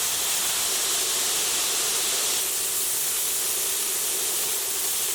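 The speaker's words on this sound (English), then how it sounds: "So we're just going to keep on mixing it and stirring it until we get the desired brownness of this pork." Pork browns in a hot pan while being stirred, a loud, dense and steady sizzling hiss that holds evenly throughout, close up and with no voices.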